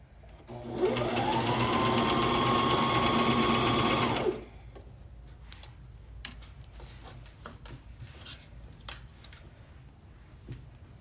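A sewing machine stitching three layers of fabric runs in one loud steady whir for about three seconds, then stops, leaving faint clicks and fabric handling.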